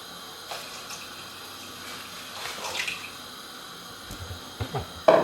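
Water runs steadily into a large cooking pot being filled for boiling pasta, a continuous splashing pour that swells midway, ending with a few louder clanks and splashes.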